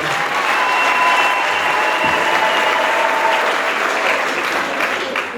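Sustained, dense applause from a large audience fills the space evenly, loud and close, with faint voices underneath.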